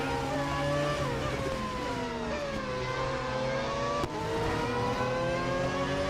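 A race car engine in Real Racing 3 holds a steady, loud, high-pitched drone with a whining tone, rising and dipping slightly in pitch as it revs, with one brief dropout partway through and no talking.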